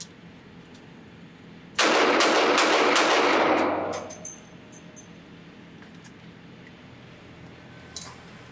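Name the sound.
Standard Manufacturing S333 Thunderstruck .22 WMR revolver volley fire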